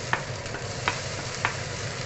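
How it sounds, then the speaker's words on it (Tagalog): Onion and garlic fry in a little oil in a pan for a sayote and pork dish, a steady close sizzle broken by three soft stirring scrapes at even intervals, with no talking. "i-fry muna natin yung ating onion at ang garlic"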